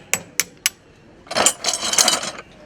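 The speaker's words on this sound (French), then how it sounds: "Là on va rabattre les clous" Three sharp, evenly spaced hammer strikes clinching horseshoe nails on a Trait du Nord draft horse's hoof, followed by a longer, broad scraping or rasping burst.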